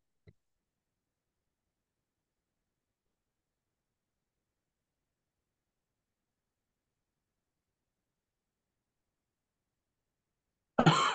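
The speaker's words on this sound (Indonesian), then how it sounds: "kena hujan langsung batuk" After a long silence, a single short burst of coughing breaks out near the end, close and fairly loud.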